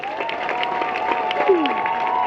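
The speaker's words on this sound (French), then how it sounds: "On applaudit s'il vous plaît." Wedding guests applaud right after a couple is declared married, a crowd clapping steadily under a sustained tonal hum, with some faint voices and cheers mixed in.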